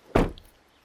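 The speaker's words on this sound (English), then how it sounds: "Close the door." Chevrolet Silverado truck door with a broken handle being shut, one solid close thud followed by quiet.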